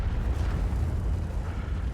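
Heavy KV-2 tank cannon blast in World of Tanks, a loud deep boom with a dense rumbling roar that fills the moment, no talk.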